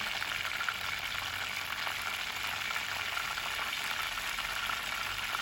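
Ginger garlic paste and curry leaves frying in hot oil in a clay pot for chicken curry, giving a soft, steady sizzle and crackle without pause, fairly faint.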